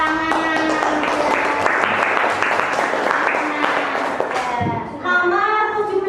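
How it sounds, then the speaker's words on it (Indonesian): Students clap their hands together in a classroom, a busy, close round of clapping mixed with a teacher's raised voice speaking over it, then a brief pause before talk resumes. "boleh ya, tepuk tangan"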